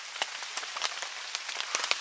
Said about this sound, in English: we're just sitting inside the tent right now because it's raining outside